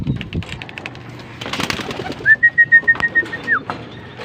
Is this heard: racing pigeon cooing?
yes